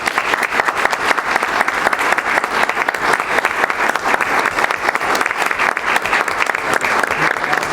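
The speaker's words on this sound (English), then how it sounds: "let's give them a round of applause for their community service" An audience at a school board meeting claps steadily and loudly for a community service team, a dense, even wash of hand claps held throughout with no pauses.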